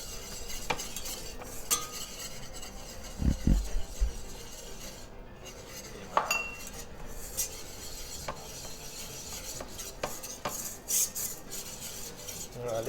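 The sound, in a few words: stirring flour into melted butter for béchamel roux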